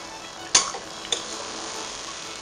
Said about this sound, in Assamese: এতিয়া মই এইখিনি লৰাই দিম ধুনীয়াকৈ